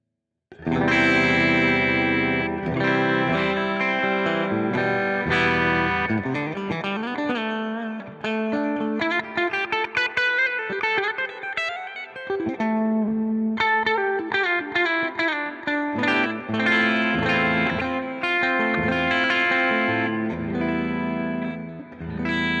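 Clean electric guitar heard through an Alnico 2x12 cabinet impulse response, playing a continuous run of ringing chords and single-note lines, loud and close with no talking over it.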